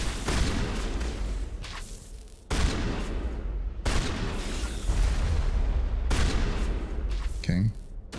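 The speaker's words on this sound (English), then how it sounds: "let me go to my shotgun" Shotgun blasts in the Mass Effect video game on Insanity difficulty: repeated loud booming shots spaced a second or two apart, each followed by a brief echoing tail, over continuous combat noise with a voice talking underneath.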